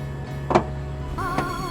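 A short electronic beep sounds, then a motor hums as the powered tailgate of a 2017 Renault Koleos begins closing, with a low steady drone underneath.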